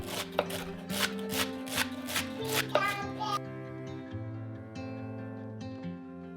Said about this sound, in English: I like to just run my knife down the celery stalk before I start dicing it.